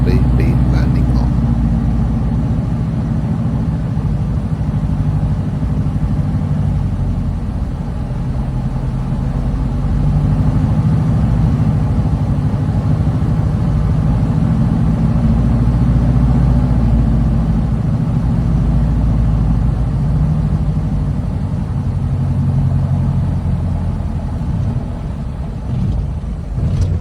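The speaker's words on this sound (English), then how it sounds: "now coming up straight in front of us is the grass runway, which we will shortly be landing on" A light aircraft engine drones steadily and loudly from inside the cockpit on final approach to a grass runway, a constant low hum with no break.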